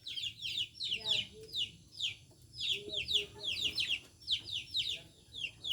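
Chicks peep in rapid high bursts while chickens cluck low beneath them, a steady close chorus from a backyard flock with faint human voices in the background.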